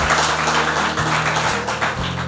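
A church congregation applauding for the Lord, a steady wash of many hands clapping together under a low sustained musical hum, continuous throughout.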